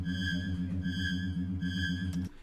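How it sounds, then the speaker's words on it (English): Looping chase music from the Aooni video game, with a steady low droning pulse and a repeating higher synth figure, moderately quiet, cutting off abruptly near the end. "it wouldn't be a song about AOONI if I did not have the chase music from the actual game"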